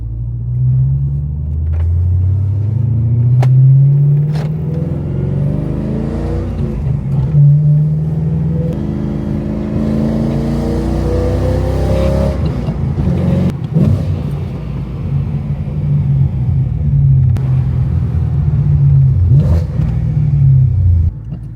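A BMW E90 M3 doing skids, with its high-mileage engine giving a loud, continuous low rumble that rises and falls through repeated revs for about twenty seconds, up close and without speech.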